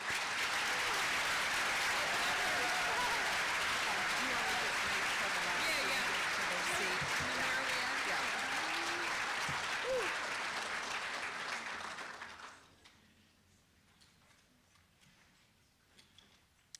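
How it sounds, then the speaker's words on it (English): Steady, dense clapping from a large audience fills the room for about twelve seconds, then fades away, leaving only quiet rustling. "Let's give them a round of applause."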